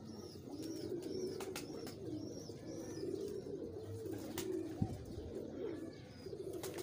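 Pigeons at a breeder's loft coo softly and repeatedly over a low, steady background, with a few faint chirps and small knocks mixed in.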